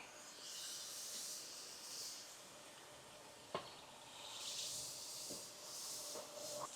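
Pork chops sizzling directly over hot charcoal on an outdoor grill, a steady quiet hiss running throughout, broken by a couple of brief sharp crackles or pops.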